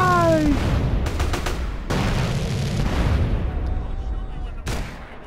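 Gunfire in Grand Theft Auto: San Andreas: several sharp broadband bursts in quick succession, then a later single shot, loud and close, with game music and a voice talking underneath.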